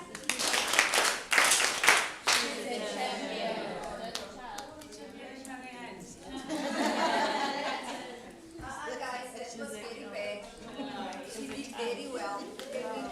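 An audience gives a participant a round of applause at a communications training session: bursts of clapping that rise and fade alongside chatter and a few light laughs.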